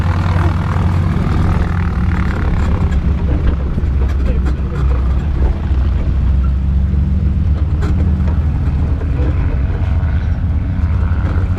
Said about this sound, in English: AT-6s, SNJs are very efficient machines for converting money into noise.